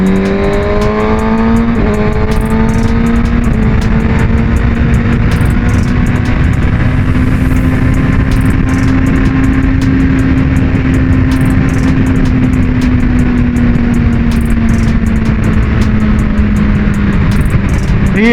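A Kawasaki Ninja ZX6R sport bike with an Orion exhaust muffler drones loud and steady from onboard, its engine note climbing through a shift early on and then holding a high, sustained whine over constant wind rush.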